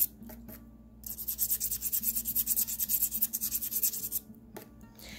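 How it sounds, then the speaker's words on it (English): A small bead reamer rubs inside a lampworked glass bead on its mandrel, a close, rhythmic scratchy grinding of about a dozen quick strokes, framed by brief quiet clicks before and after. "Cleaning up the bead cleaning the bead off of the mandrel."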